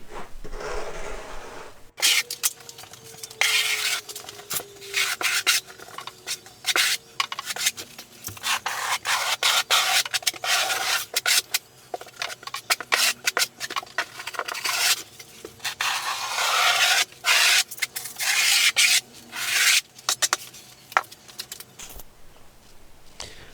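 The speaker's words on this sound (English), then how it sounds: "you can use your trowel. The important thing is to get it embedded in the thin set and to get it as smooth as you possibly can." A trowel scrapes and smooths thinset mortar over a Schluter Kerdi-band waterproofing strip in a bathroom, a steady run of close, rough rubbing strokes in quick succession with only brief pauses.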